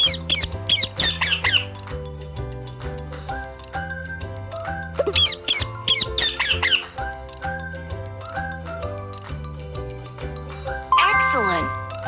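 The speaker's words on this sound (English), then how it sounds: "Parrot!" Parrot calls in a children's animal-sound guessing game: sharp, shrill squawks come in short bursts over a looping, bouncy music track.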